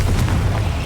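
Fire spell blast in Hogwarts Legacy, a short, dense, booming explosion with a low rumble filling the whole moment, loud and close.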